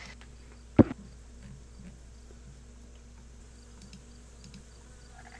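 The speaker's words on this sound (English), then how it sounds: "There is just the sounds of the bugs continuing to buzz out there in the early morning air of the outpost." Bugs buzzing faintly in the early morning air around a marsh outpost, a steady low hum with one sharp tap near the start and no talk.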